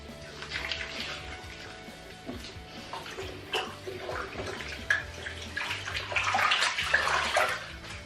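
Running water splashes and sloshes as a face is rinsed with a flannel, a steady wet rush with intermittent louder splashes, close by and without talk.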